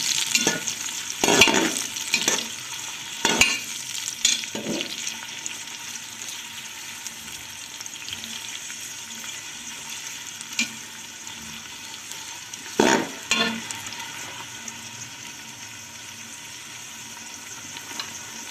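Onions frying in a pan toward light brown for aloo gosht, with a soft continuous sizzle broken by several sharp scraping stirs near the start and one more later.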